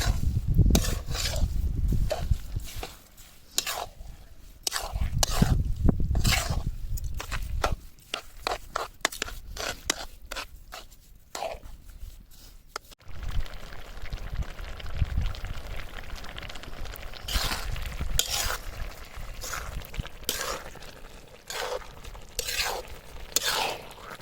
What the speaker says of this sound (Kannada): ಹೀಗೆ ಸಕ್ಕರೆ ಹಾಕ್ಕೊಂಡು ಚೆನ್ನಾಗಿ ಮಿಕ್ಸ್ ಮಾಡ್ಕೊಳ್ಬೇಕು.